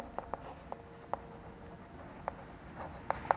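Handwriting on paper or a board during a Class 12 maths lesson on relations and functions: a series of sparse, sharp pen or marker taps and short strokes, close and quiet, with no one talking.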